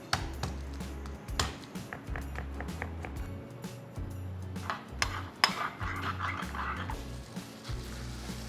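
Garlic cloves are crushed in a kitchen with a run of sharp knocks and taps at an uneven rhythm over a low background hum, close and fairly quiet.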